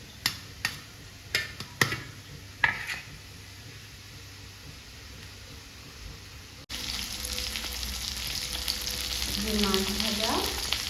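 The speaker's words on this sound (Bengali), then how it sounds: "লঙ্কা গুঁড়ি দিয়ে ভাজা করব" Fish seasoned with chili powder frying in a pan at home, a low steady sizzle with a few sharp crackles and spatters early on, then a louder, denser hiss later with a voice speaking briefly over it.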